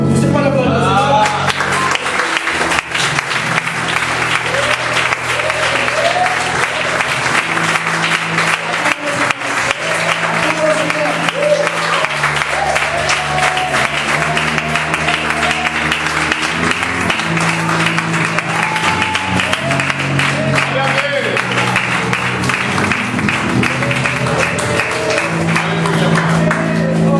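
Church congregation applauding throughout, a steady loud wash of clapping layered over sustained music and voices that continue under it.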